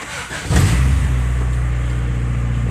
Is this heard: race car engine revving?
yes